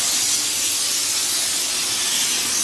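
Raptor Liner bed liner sprayed from a spray gun onto the tailgate of a 2022 Ford F-150, a steady, close airy hiss that runs unbroken without pause.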